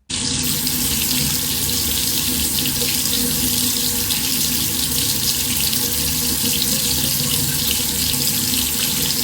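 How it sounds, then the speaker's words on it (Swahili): Tap water pouring steadily and loudly from a faucet, a constant splashing rush with no pauses, close up and heard alone. "Haya ndio maji yanayotoka kwa sasa hivi"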